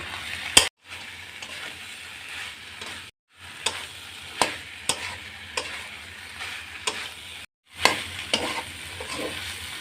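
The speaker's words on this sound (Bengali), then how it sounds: "কচুর ডাঁটা কষানোর মধ্যে আমি ভাজা চিংড়িগুলো দিয়ে" Colocasia stems and fried prawns are stir-fried together in a pan. A soft sizzle runs under repeated spatula scrapes and taps, broken by a few short silent cuts.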